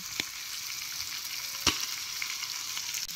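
Ghee sizzles on tandoori chicken tikka masala cooking on a wood-fired chulha, a steady bright frying hiss with a few sharp pops and crackles.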